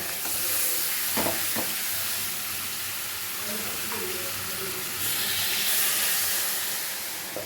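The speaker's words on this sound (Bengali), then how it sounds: "আমটা ভাজছি, কি সুন্দর একটা গন্ধ বেরোচ্ছে গো" Ripe mango pieces fry in a pan with a steady, loud hissing sizzle that runs throughout, with an occasional soft knock of stirring.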